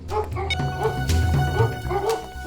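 Several dogs, stated to be Labradors, bark and yip in quick overlapping bursts, loud and close, with a whimpering edge between barks.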